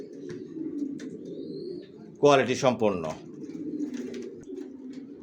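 Pigeon coos from healthy racer pigeon chicks in a loft, a close burst of soft cooing over steady low room noise while someone talks nearby.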